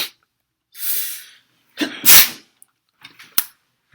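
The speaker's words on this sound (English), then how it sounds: "I sneeze inside my shirt." A single sharp sneeze into a shirt, preceded by a quick intake of breath, followed by a few small rustles and a faint click.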